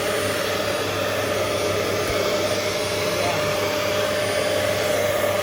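A vacuum cleaner sucks air out of a clothes storage bag with a steady, loud whooshing roar that holds throughout, and a voice speaks a word briefly over it.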